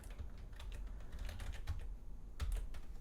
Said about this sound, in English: we can start typing